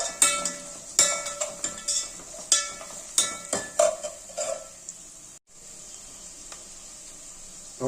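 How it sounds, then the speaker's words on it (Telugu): Cashews frying in oil in a pan with curry leaves for carrot rice, with a steady sizzle and repeated clattering stirs of a spoon against the pan, no talking. "మనకు అన్ని చక్కగా ఫ్రై అయిపోయి కొద్దిగా జీడిపప్పు వేసుకోండి"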